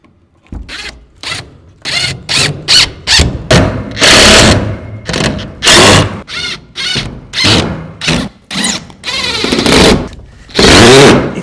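Screws driven into wooden bats on a pole barn wall, a power drill whirring in repeated short bursts of a second or so each, near and loud, with thumps and ratchet-like clicks between the runs.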